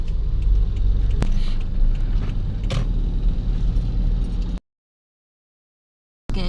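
A car rolls along a road with a steady low engine and tire rumble, a few sharp knocks and rattles, then a short dead gap before the driving noise returns.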